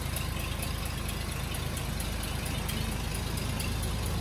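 Engine of an old limousine left abandoned for 32 years, idling on its carburettor with the exhaust running, a steady, even mid-pitched rumble that holds constant throughout at close range with no talk.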